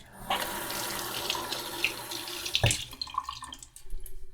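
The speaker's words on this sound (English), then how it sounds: "Rinse off the salt" Kitchen tap water runs steadily into a sink to rinse salt off dulse seaweed, a close, continuous rushing stream that shifts slightly as the seaweed is moved under it, with no talking.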